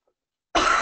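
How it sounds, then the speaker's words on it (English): A single loud, harsh cough bursts in after a moment of silence and fills the rest of the clip, close and dry. "Excuse me for coughing so much."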